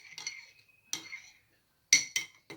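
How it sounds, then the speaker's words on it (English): A metal spoon stirring a tea bag in a cup of hot water clinks against the cup a few times, with short, sharp taps separated by quiet pauses. "Now we're going to mix the tea bag into the tea."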